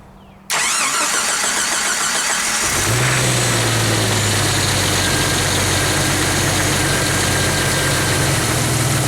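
A Jeep engine cranks and fires after a moment of quiet, then settles into a loud, steady idle with a constant low hum close by.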